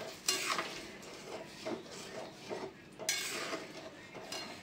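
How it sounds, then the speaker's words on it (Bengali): Cumin seeds, dried red chillies, bay leaf and ginger hit hot oil in a kadai for a fish-head muri ghonto, giving a close, crackling sizzle. Several sharp bursts are joined by stirring and utensil scrapes, with no talking. "জিরে দিয়ে দিলাম, শুকনো লঙ্কা তেজপাতা আর আদা এর মধ্যে দিয়ে দিয়েছি"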